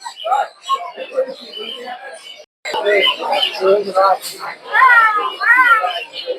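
Cat meows come through amid overlapping talk and background chatter at a cat market in Mirpur, with rising, wavering cries that repeat several times toward the end.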